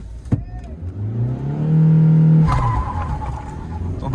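A Kia Seltos and a Mahindra Scorpio S11 launch side by side in a drag race, engines revving hard and rising in pitch, then tires squeal briefly before the engines drop into a loud steady drone up close.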